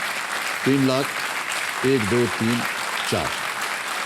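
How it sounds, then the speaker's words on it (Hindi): A studio audience applauds a contestant on the Hindi quiz show Kaun Banega Crorepati, a steady wash of clapping running under a voice that speaks in short bursts throughout. "तालियां बज जाए इनके लिए।"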